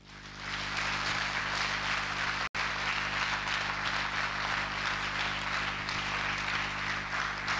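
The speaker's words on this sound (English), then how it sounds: "Let's give Jesus a mighty hand clap." A church congregation clapping hands during a Sunday service, a dense sustained roar of many hands at once that continues evenly with a momentary cut partway through.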